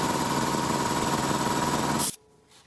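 A Kobalt air compressor runs with a loud, steady, rapid pounding drone, then cuts off abruptly, leaving a faint low hum.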